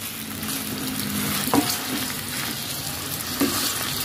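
Meat stirred with soy sauce in a hot pan for adobo: a steady close sizzle with two brief scraping knocks of the utensil, and no talking.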